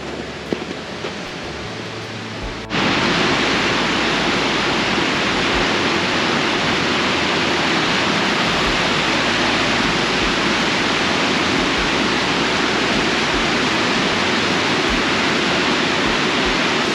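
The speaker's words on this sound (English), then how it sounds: "the river is flowing just super rapidly. We've had a lot of rain and a lot of snow melt" A rapidly flowing river swollen by heavy rain and snow melt along a trail to caves after a storm, a steady loud rushing roar that starts abruptly and continues unbroken, with no speech.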